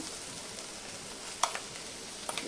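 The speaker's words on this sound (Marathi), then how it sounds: "आता आपण याच्यामध्ये कांदा खोबऱ्याचं वाटण टाकून घेऊया" Paste of roasted dried coconut and onion going into a pan of softened onions for mutton rassa, a soft, fairly quiet sizzle with a small utensil clatter partway through and a few light taps near the end.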